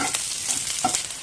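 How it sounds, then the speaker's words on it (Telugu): Finely chopped onion fries in a pan with a steady, close sizzle, broken by brief scrapes of stirring. "చిన్న ముక్కల కింద బాగా వేయించుకుందాం."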